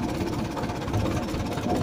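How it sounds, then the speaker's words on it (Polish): A restored Ursus C-360 tractor engine runs at a steady idle outdoors, a continuous low rumble with an even chug and no breaks. "Kursus cały czas pracuje ładnie."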